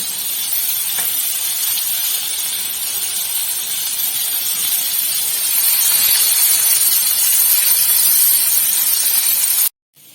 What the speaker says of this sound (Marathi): तिकडे बोंबील तळण्यासाठी ठेवलेले आहेत